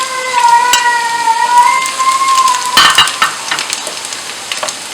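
Garlic slices and cumin seeds hit hot oil and sizzle loudly and steadily up close, with a whistling tone near the start and a few clinks of stirring.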